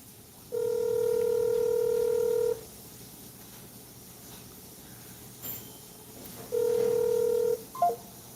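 Two bursts of telephone keypad dialing tones ring out steadily, the first about two seconds long and a second shorter burst later, with faint background noise between and no answer.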